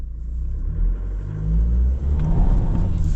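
A GWM Cannon XSR 2.4T turbo ute accelerates in reverse at full throttle, a steady deep engine rumble that swells and grows louder partway through, heard from inside the cabin with no talking.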